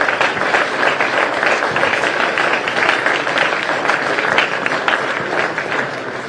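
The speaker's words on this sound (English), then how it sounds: "How about a big round of applause?" Sustained applause from a large audience at the opening ceremony of the 2023 PDGA Pro World Disc Golf Championship, a dense, steady roar of clapping holding strong throughout, easing slightly at the end.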